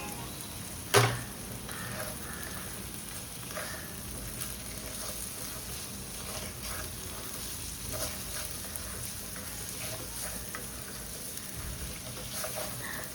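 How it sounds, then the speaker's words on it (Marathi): Potato slices fry in a pan with onion-garlic masala, kitchen king masala, garam masala, salt and red chilli, making a faint, steady sizzle with one sharp utensil knock early on. "जसं जसं बटाटा शिजतो तसा त्याला मसाल्याचा कलर येतो"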